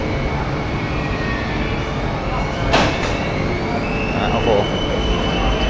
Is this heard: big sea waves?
no